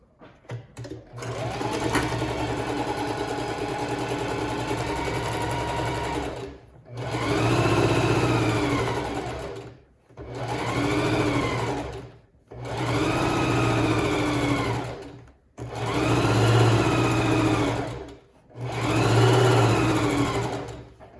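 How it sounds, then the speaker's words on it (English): A sewing machine stitches a fabric seam with a 1/2 inch seam allowance in a long opening run and then several shorter bursts of loud, steady whirring, separated by brief stops. "I'll stitch from top to bottom with a 1/2 inch seam allowance."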